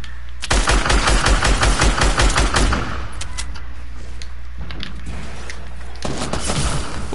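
Rapid video game gunfire bursts loud and close in the opening seconds, a dense automatic volley that thins out, then another burst returns near the end.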